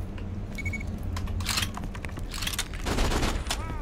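Gunfire in the Borderlands 2 video game, a quick burst of sharp shots and rattling clicks with some metallic jingling, fairly close and busy amid other game effects.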